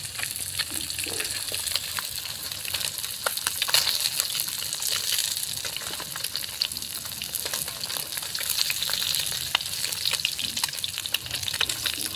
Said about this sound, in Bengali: মাছগুলোকে উল্টে পাল্টে ভেজে নিলাম